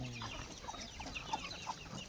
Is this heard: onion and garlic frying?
no